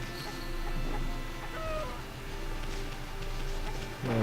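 Chickens cluck in the video game Okami, soft repeated clucks over a steady game music and ambience bed, fairly faint and continuous throughout.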